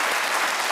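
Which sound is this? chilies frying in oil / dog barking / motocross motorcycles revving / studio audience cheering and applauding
studio audience cheering and applauding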